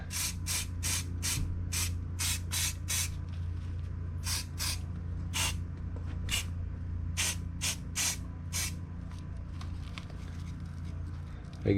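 Spray paint hisses in a dozen short, sharp bursts into the insides of model truck parts for an AMT 1953 Ford stocker hauler build, close and distinct, with low background hum and no talk.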